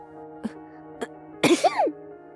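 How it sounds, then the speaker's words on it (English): A woman lets out one abrupt sneeze, preceded by two small sharp breaths, close and fairly quiet in an otherwise still room. "She asked before sneezing abruptly."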